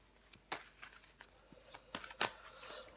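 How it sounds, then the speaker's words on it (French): Tarot cards are handled close by in a quiet room: scattered soft flicks, slides and sharper snaps as cards are shuffled and laid out, with a brighter crisp flick near the end. "On va recouvrir des cartes pour vous, les béliers."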